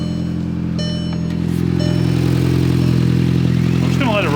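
VW MK6 Jetta GLI engine idling close by with a steady low hum and harmonic drone, some faint clatter, and a brief warbling tone near the end.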